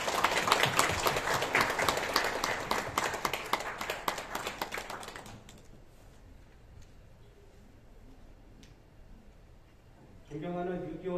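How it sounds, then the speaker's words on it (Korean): Audience applause at a Korean veterans' commemoration ceremony, a dense, loud burst of crowd clapping for about five seconds that fades out, followed by quiet room tone and a voice starting to speak. "박수 부탁드립니다"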